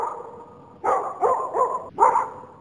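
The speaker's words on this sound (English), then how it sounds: "That bark was alerting people that something was wrong." A dog sounds three or four loud, mid-pitched barks in quick succession, heard clearly over a texted audio message with a faint electronic tone in the background.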